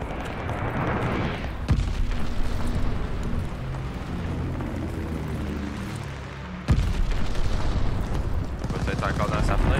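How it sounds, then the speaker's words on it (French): Glide bomb support strike explosions in a Call of Duty multiplayer match, heavy rumbling blasts and booms rolling continuously with sharp hits around two and seven seconds, dense battle noise under voices talking. "Bombe planante en soutien."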